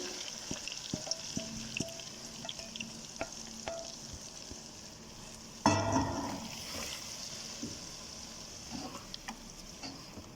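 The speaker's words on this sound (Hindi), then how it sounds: "अभी मैं इसको भून के आपको दिखाती हूँ, इसका पका के।" Chicken pieces frying and being stirred in a pan for achari handi, a steady close sizzle broken by scraping stir strokes, with a louder burst of sizzling midway through.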